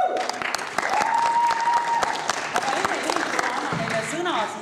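An audience claps steadily and warmly for jury members at a school theatre festival awards ceremony in Jõhvi, applause sustained throughout with a voice speaking over it.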